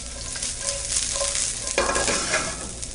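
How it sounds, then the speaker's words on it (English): Red pearl onions sauté on a stove, giving a continuous close sizzle with scraping stirs and a louder burst of frying partway through. "we're going to start out with some red pearl onions. We're going to saute these off."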